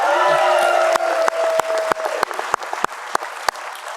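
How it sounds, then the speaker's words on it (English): A crowd at a 2019 business school commencement ceremony applauds, steady dense clapping with a few sharp individual claps standing out, following a voice over a public address system. "let's give them a round of applause as well"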